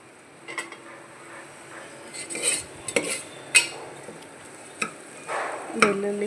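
Crushed garlic and turmeric frying in a hot tempering pan, a soft sizzle broken by a few sharp scrapes and clinks of a spoon against metal as it is stirred.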